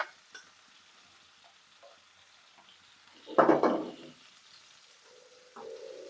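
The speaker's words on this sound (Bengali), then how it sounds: "পেঁয়াজ রসুন ভাজা হয়ে গেছে, দিয়ে দিলাম তেলে" Onion and garlic fry in oil as they are stirred. Faint background frying gives way to a brief, loud burst of sizzling and stirring in the middle, with a few small kitchen clatters around it.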